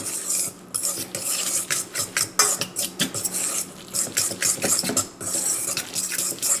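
Egg yolk and dry ingredients for corn oysters being stirred in a bowl, a spoon scraping and knocking against the sides in a steady, repeated rhythm, close up with no talk.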